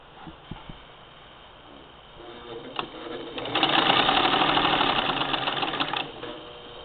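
A 1947 Singer 66-16 sewing machine with a tucker attachment, a few clicks and a short burst, then a loud steady whirring run of stitching for about two and a half seconds before stopping.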